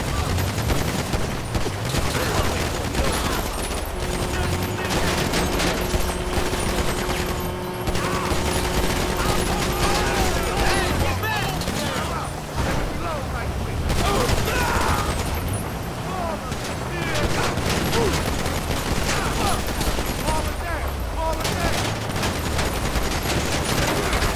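Rapid bursts of gunfire in GTA 5 as players shoot at vehicles, the shots dense and continuous alongside game engine noise, with a voice talking over the action.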